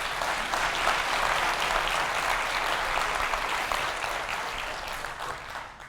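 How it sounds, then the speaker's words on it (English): A tech conference audience claps for a talk on modern JavaScript and UI5, steady, full applause from a crowd that holds for several seconds before slowly tapering off. "give a round of applause for Modern JavaScript and UI5 Part 2 with Mike."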